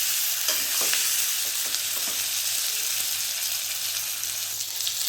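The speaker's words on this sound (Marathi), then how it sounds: "थोडंसं तेलामध्ये ह्याला फ्राय होऊ द्यायचं" Stuffed eggplants fry in oil with a dense, continuous hiss that holds steady and close throughout, with faint scraping of a stirring spoon underneath.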